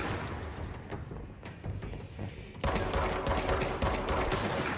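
Rapid bursts of gunfire in the action video game Control, with scattered shots at first and then a dense, continuous volley of automatic fire in the second half, loud and close.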